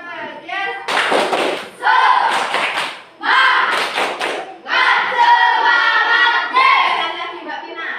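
Classroom students perform a rhythmic spirit clap, bursts of loud unison clapping and thumping alternating with a group chant in a repeated pattern, close and energetic.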